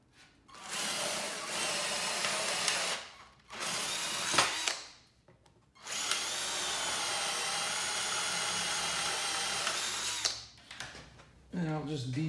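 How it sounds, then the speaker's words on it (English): Power drill boring holes through angle iron clamped to a Black & Decker Workmate jaw, three bursts of close, whining drilling separated by short pauses, the last one long and steady. "I'm going to drill the holes through"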